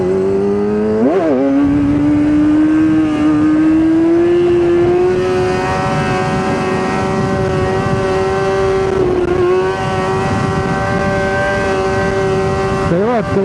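Motorcycle engine revving hard with rising and falling pitch, held at a steady high drone between sharp throttle blips near 1 and 13 seconds, loud and close throughout.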